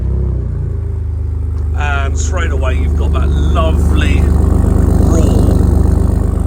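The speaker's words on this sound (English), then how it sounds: "And I will put this in now, what it sounds like when it starts up." A Ford Raptor pickup's engine idles after a remote start, a loud, deep, steady rumble that swells slightly and stays close throughout while someone talks over it.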